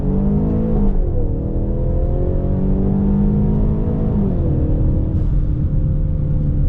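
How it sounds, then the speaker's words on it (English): A Ford Mustang EcoBoost with a 93 octane tune pulls hard in first gear from a rolling 20 mph, the engine droning loud and close as its pitch climbs steadily, dips briefly at a shift-like break, then rises again. "Let's do a rolling 20-mile-an-hour first gear pull."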